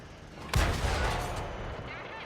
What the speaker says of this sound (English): that's just taking an Artie hit